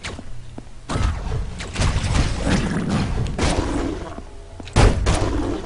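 Shotgun blasts in the pixel-art action game Hyper Light Drifter: several heavy, punchy booms land at irregular intervals over a busy layer of game effects, loud and close.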